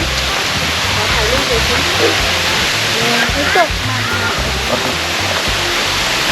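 A waterfall in Phu Phan National Park, Sakon Nakhon, roars as a loud, steady rush of falling water, with people talking over it.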